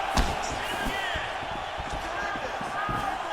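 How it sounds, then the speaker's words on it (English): An arena crowd roars under someone commentator's voice in a UFC 4 video game bout, with dull strike thuds punctuating the broad, steady wash of cheering. "you hear the crowd react every time they come together"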